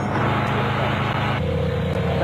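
Castrol Toyota Land Cruiser off-road race truck arriving at the Barberspan off-road race in South Africa, a loud steady engine roar close by with a slight shift in tone midway, no pauses.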